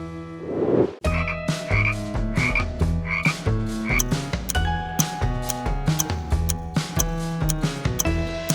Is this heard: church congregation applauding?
no